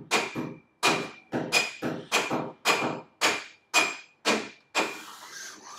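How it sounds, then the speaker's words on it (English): A soft hammer drives an axle basher through a Tony Kart go-kart axle, its bearings and bearing cases: about ten evenly spaced, loud, dull metallic thuds, close by, with no talking. "And then with your soft hammer"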